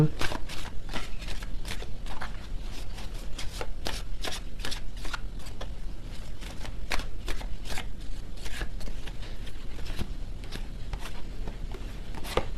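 Tarot cards being shuffled and drawn during a tarot reading, a steady run of crisp riffling snaps and soft slides repeating close up for the whole stretch, with no voice over them.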